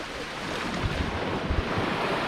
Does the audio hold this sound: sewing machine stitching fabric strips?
no